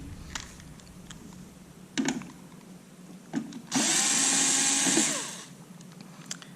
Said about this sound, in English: I'm going to remove these two screws.